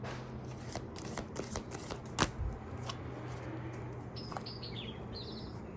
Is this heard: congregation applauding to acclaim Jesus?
no